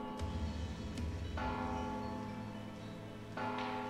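Bell tolling in the stealth video game Mark of the Ninja, several resonant strikes whose ringing tones overlap and sustain over game ambience, with fresh strikes near the start and end.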